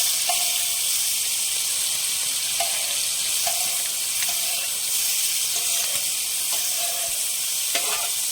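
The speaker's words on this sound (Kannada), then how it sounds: "ಇದಕ್ಕೆ 100 ಗ್ರಾಮ್ನಷ್ಟು ಈಗ ತುಪ್ಪ ಹಾಕ್ಕೊಂಡು ನಾವು ಮಾಡ್ಕೊಂಡಿರೋ ಪ್ರಾನ್ಸ್ ಮಿಕ್ಸನ್ನು ಹಾಕ್ಕೊಂಡಿದ್ದೀವಿ. ಹಾಗೆ ಒಂದು ಸ್ವಲ್ಪ ಹುರ್ಕೊಳ್ಳೋಣ ಇದನ್ನು" Prawn mix frying in ghee for a coastal prawn ghee roast, a loud continuous sizzle with scattered light clicks and scrapes from stirring throughout.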